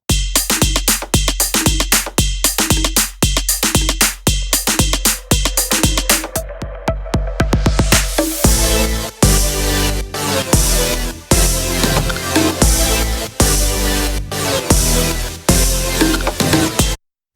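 Punchy drum-machine kits from a Logic Pro step sequencer pack, playing back as a tight, loud rhythmic pattern of kicks, snares and hi-hats, first sparse and staccato, then a fuller busier groove with crashes, continuous and without talk.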